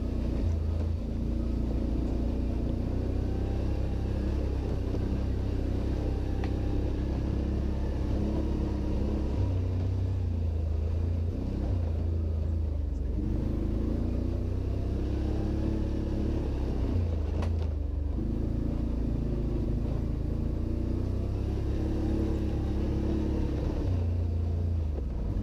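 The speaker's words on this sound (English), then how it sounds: "That's a nice bike too, the Outlander. It rides super smooth." A Can-Am Outlander ATV engine droning steadily during a trail ride, a loud, continuous low rumble that rises and falls slightly with the throttle over the whole stretch.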